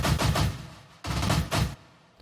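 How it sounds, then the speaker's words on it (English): A quick burst of dense electronic drum hits, a big room electro house fill, rolls in two clusters separated by a short gap, sounding busy and gritty. "We need some fills every 8 bars, something like this."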